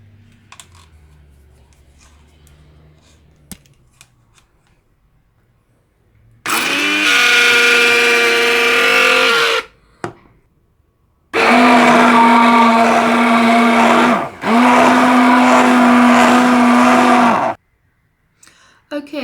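Lemon curd being whizzed with a blender, a loud steady motor whir in three bursts of a few seconds each, separated by short pauses, with no talking.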